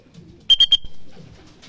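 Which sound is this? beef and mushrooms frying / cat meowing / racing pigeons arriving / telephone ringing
racing pigeons arriving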